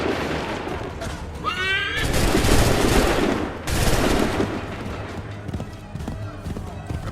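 Battlefield gunfire in the video game Assassin's Creed 3: a loud ragged burst of shots, clustered mostly in the middle, mixed with horse neighs, a shouted voice and dense battle noise.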